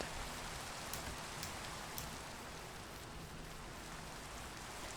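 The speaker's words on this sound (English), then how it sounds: "so dark right now with the rain" Steady rain pours down in a dark Minecraft world, a dense even hiss with faint drop ticks throughout, close and continuous with no talk.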